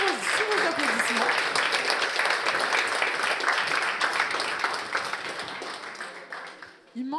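An audience at an eloquence contest final claps loudly and steadily as the candidates are called onto the stage. The applause fades near the end while a voice speaks over it.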